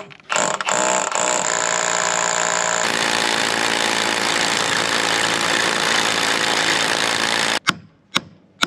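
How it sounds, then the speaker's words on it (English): A Milwaukee cordless rotary hammer drilling into concrete while building a shed, running loud and steady for several seconds after a brief start, then cutting off with a couple of short bursts. "We're gonna go ahead and use the Milwaukee cordless roto hammer."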